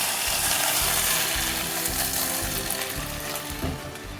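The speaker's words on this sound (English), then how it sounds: "I'm frying the rice in with the stew until the water reduces." Steady loud sizzling and bubbling of rice frying in stew in a pot, continuous throughout with faint stirring clatter.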